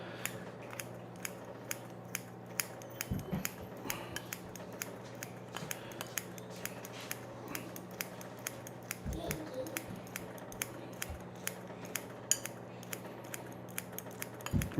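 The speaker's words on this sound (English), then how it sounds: "They use scissors to cut up their meat." Kitchen scissors snipping through raw meat for gyudon, a steady run of sharp, close clicks and cuts over a low background hum.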